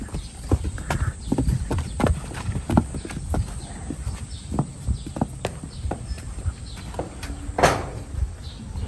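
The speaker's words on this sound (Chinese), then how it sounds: "给毛驴修蹄子" A donkey's overgrown, rotten front hooves are trimmed up close, with sharp irregular clicks, scrapes and knocks of the tools on hoof, and occasional shuffling of the animal's feet.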